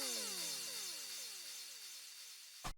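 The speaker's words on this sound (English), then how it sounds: "there is an impact and a misc FX, which sounds like this" A misc FX and impact from a tech house drop: a bright, noisy sweep with descending repeated tonal whooshes fades steadily across the clip, then a short, loud, punchy impact lands right at the end.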